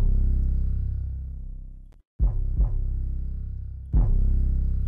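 A loud, heavily distorted 808 bass from a COD/war-type trap beat, booming and clipping in long sustained hits, with a short dropout and a few sharp retriggered notes near the end.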